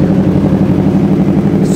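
A Yamaha R25 motorcycle with a two-cylinder inline engine idles up close, a loud, steady, throbbing pulse with an even rhythm.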